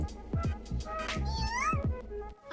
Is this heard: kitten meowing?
yes